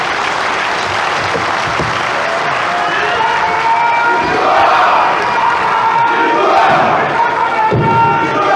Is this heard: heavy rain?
no